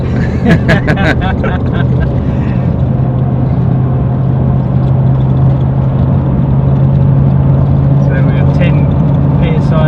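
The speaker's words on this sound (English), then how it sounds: "This is just on moderate acceleration in gear 5." A remapped Toyota Landcruiser 200 Series V8 with a transmission lockup kit accelerates moderately in fifth gear, a steady low engine drone running throughout. Someone talks over it briefly near the start.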